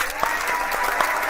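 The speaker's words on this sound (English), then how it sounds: "let me hear you clap" An audience at an online marketing webinar claps steadily, a dense patter of many hands with a few louder individual claps standing out.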